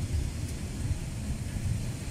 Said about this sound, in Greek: Ακούστε τον αέρα